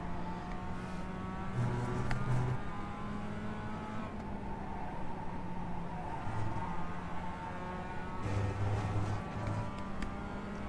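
Mazda MX-5 race car engine driven around Oran Park South in iRacing, a steady buzzing drone with gear-linked pitch shifts and revving, continuous and close throughout.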